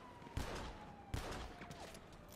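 Gunfire in GTA V roleplay sounds as two sharp, distant cracks less than a second apart over a faint background hum, quiet and echoing.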